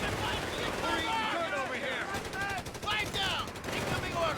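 A machine gun team fires in Company of Heroes 3, rapid bursts of gunfire rattling continuously in the background while a voice talks over it.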